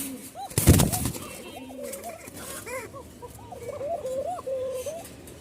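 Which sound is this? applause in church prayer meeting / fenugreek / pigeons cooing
pigeons cooing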